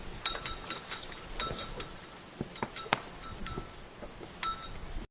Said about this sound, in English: That sound comes from the rope on a flagpole. When the wind moves it, the metal clips hit the pole.